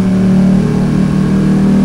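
An Italian motorcycle fitted with an Italian exhaust rumbles loud and close inside a tunnel, its engine holding a steady, droning tone that echoes off the walls without any talk.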